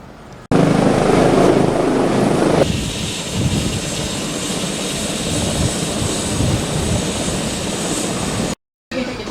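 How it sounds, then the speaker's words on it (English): An A-Star twin-turbine helicopter's engines roar loudly and steadily nearby, with a constant high whine over a rumbling rotor, cutting out briefly near the end. "we're having a look at this A-Star helicopter, which is a CH-45 in this case. Twin turbine."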